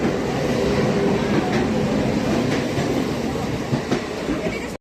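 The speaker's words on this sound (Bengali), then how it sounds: "ট্রেন চলে যাচ্ছে।" A train moving through a railway station, a loud, continuous rumble of wheels on rails with a few clicks and faint squeals, close by and steady until it cuts off.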